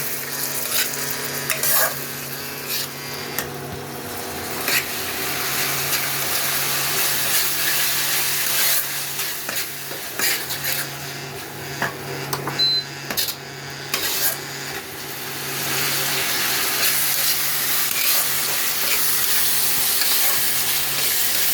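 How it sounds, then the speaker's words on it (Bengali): Chili and cumin powder fry in oil in a pan while being stirred, a continuous close sizzle with scraping spoon strokes and occasional clinks of utensil against the pan, no talking. "মশলাটা ভালো করে আমি কষিয়ে নেব।"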